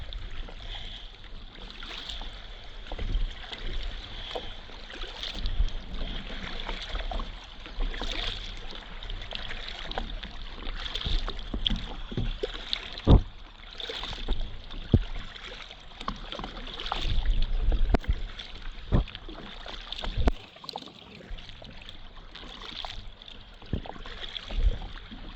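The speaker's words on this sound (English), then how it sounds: "These waves are left over from a boat that went through a while back." Small waves left over from a passing boat's wake lap and slosh against a kayak, a steady close watery wash with scattered splashes and knocks against the hull throughout.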